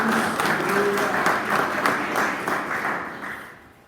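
Congregation applause at a Portuguese-language church service, a thick wash of clapping that holds steady and then tapers off toward the end.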